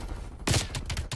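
Gunfire from a Call of Duty Cold War Hardpoint match comes as a loud burst followed by several quick shots, close and sharp.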